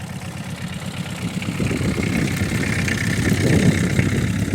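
A tractor engine rumbles and idles close by while ploughing with a homemade plough, a low continuous drone that grows slightly louder toward the end.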